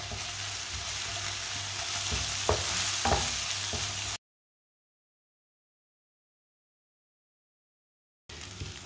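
Tomatoes fry in a pan for a spinach and egg dish, a steady sizzle with a few scraping stirs, then a stretch of complete silence before the sizzling returns.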